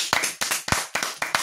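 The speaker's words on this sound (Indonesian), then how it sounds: "mari kita beri tepuk tangan" A few people clap together in a small room during a K-pop reaction session, giving about six distinct, sharp, closely spaced claps with brief gaps between them.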